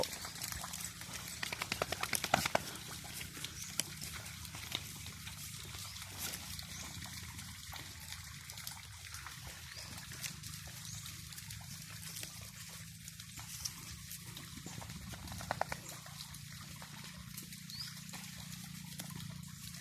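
Water trickles and splashes steadily for the whole stretch, with occasional louder splatters as sheep wade across the stream, fairly quiet and continuous.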